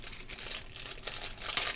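A plastic bag crinkles and rustles in quick, close bursts as a red dot optic sight is unpacked on a tabletop.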